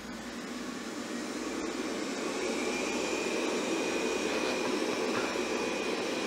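A steady, loud whirring roar of a 360 S9 robot vacuum on max mode, broadband and continuous, building slightly in intensity with no voices.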